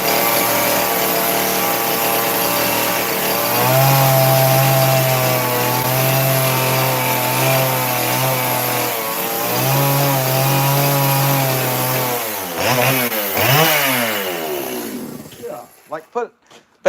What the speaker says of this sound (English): Is there anything else I can do with a chainsaw to this fish?